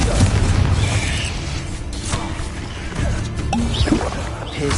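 Confringo blasting spells go off in Hogwarts Legacy, booming, crashing explosions with debris-like clatter that swell and ease over several seconds, loud and close.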